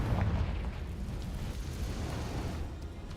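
Confringo fire-blast spell exploding in Hogwarts Legacy, a deep rumbling burst at the start that trails into a sustained low roar.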